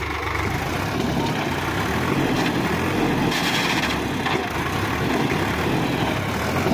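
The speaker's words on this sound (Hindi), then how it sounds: "जोर पूरे लगा रहा भाई ट्रैक्टर" A Sonalika DI 50 tractor stuck in sand, its diesel engine droning loud and steady under full load in the open, a continuous strained rumble with no break.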